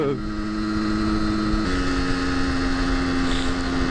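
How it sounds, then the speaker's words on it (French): A small, flexible motorcycle engine pulls through a tight corner in third gear, a loud steady drone that steps up in pitch partway through as it accelerates. "Le moteur est finalement relativement souple et permet de reprendre facilement."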